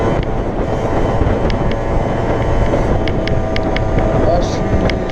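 Strong wind buffets the microphone continuously while riding a Piaggio Zip scooter on an 80 km/h road, a loud rumbling roar with the engine beneath it and a few faint clicks.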